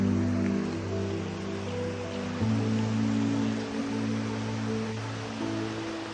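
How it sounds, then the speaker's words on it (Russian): Forest stream rushing in a steady broadband wash, continuous and fairly loud throughout, with a low steady hum beneath and no talking. "там шумит жестко ручей"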